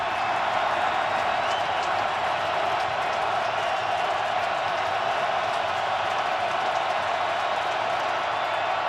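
A football stadium crowd at an NFL playoff game roars in a steady, dense wall of cheering and noise, loud and continuous throughout without letup.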